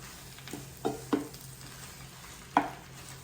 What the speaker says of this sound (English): I'm gonna put a little at a time in here and let it go ahead and cook down